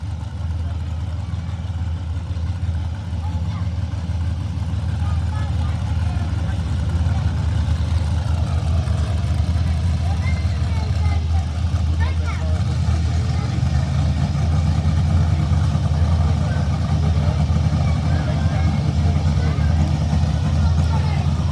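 A Camaro drag car idles steadily at a no-prep street grudge race, a deep, even engine rumble running throughout while people talk over it.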